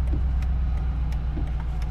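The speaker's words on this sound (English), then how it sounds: "And then we start the car." A car engine runs steadily just after being started, a close, loud low rumble holding even throughout with no talking.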